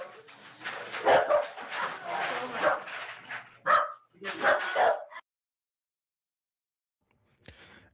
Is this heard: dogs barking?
yes